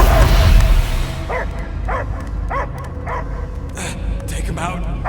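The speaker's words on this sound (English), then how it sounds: "I hear only barking" A dog barks in the Guardians of the Galaxy video game, a string of short, regular barks under a steady background drone, with voices speaking over part of it.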